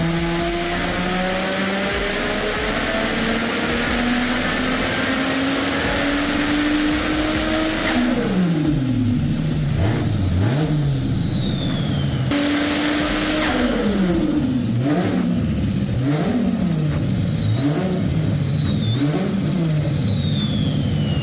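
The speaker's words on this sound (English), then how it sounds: "Teo, show us what this turbo can do, huh?" A turbocharged wagon engine on a chassis dyno, tuned to 650 rwkW and 1200 Nm, climbs in a long loud rising pull, then blips through several sharp rev spikes with turbo whistle and blow-off hiss between them.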